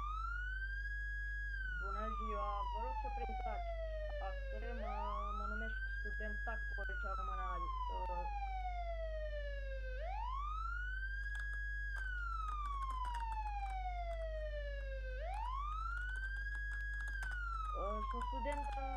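A police car siren in an MTA roleplay video game wails in long rising and falling sweeps, loud and steady over a low constant hum, with soft keyboard tapping and clicks scattered underneath.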